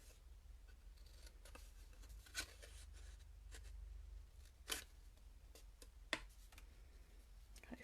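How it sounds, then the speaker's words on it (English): Scissors snipping through card to cut an angled banner for a handmade birthday card, a few sharp isolated cuts spaced seconds apart over quiet background, close and faint. "with my scissors I'm going to cut this into an angled banner."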